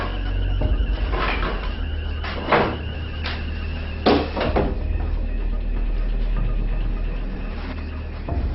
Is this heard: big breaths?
no